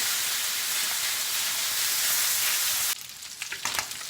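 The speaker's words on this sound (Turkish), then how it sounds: "Etlerimizi suyunu kaldırmadan pişirmeye devam ediyoruz" Meat sizzles and fries loudly in a sac pan for kavurma, a dense, steady hiss that gives way to uneven crackles and stirring sounds near the end.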